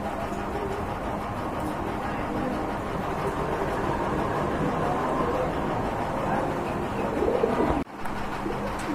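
Sirazi pigeons, a large breed, coo in a busy setting, their low calls blended into a dense, constant wash of background noise before a brief cut near the end.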